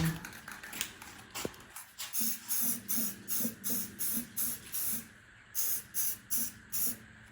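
An aerosol tack coat is sprayed in short light bursts onto a guitar under repair, about a dozen quick hissing puffs in a steady rhythm, close and fairly soft.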